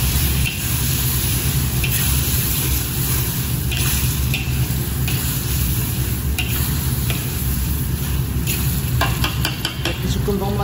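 Potatoes stirred into a simmering fish head curry in a pan, the spoon scraping and sloshing through thick gravy over a constant loud sizzle, with a flurry of sharper scrapes near the end.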